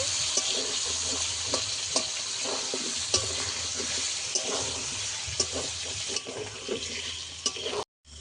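Chandramukhi potatoes fry covered in a pan with a steady, close sizzle broken by sharp spatula scrapes and taps, then a sudden brief cut near the end.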